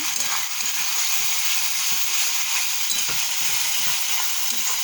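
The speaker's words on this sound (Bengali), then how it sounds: "চলো মশলাটা কষিয়ে নিই" Spice paste with chili powder frying in a pan, giving a steady broadband sizzle with soft stirring scrapes, close and continuous, with no voice over it.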